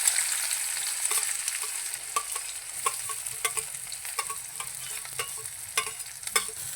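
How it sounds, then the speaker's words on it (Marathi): Chopped onion and green chili sizzle steadily in hot oil in a pan, with soft stirring clatter now and then; no one speaks. "तर तेल तापले, आता त्याच्यामध्ये घालूया कांदा आणि मिरची।"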